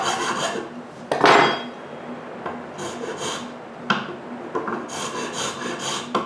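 A square file rasps back and forth over the inside corners of a wooden opening cut for a thermostat display, making steady close strokes of scraping with short gaps between them.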